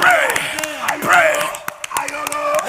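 A congregation claps hands during a prayer service, sharp irregular claps scattered under loud, fervent speaking voices, with clapping bursts recurring across the moment.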